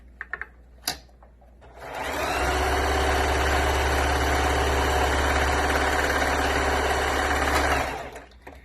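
A sewing machine stitches across the bottom of two pieces of cloth for a face mask, a close, steady mechanical whir running about six seconds after a few handling clicks, then stopping.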